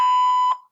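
A single steady electronic tone from a voicemail answering machine on a government comment line, loud and sustained for about half a second before cutting off with a short tail.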